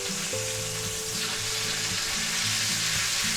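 A chuck eye steak sizzles loudly and steadily in a hot pan as it is flipped and cooked, a constant bright frying hiss under soft background music, with no talking.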